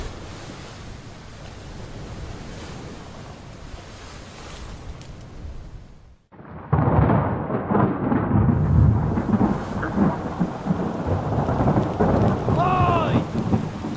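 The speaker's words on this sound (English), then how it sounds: "Storm!" Thunderstorm in the video game Return of the Obra Dinn: steady heavy rain and rumbling wind, a brief near-silent break, then louder crashing rain, surf-like roar and thunder continuing to the end.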